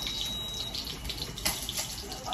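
Water runs steadily into a washing machine as it fills, a faint, even trickle and splatter under quiet room sound.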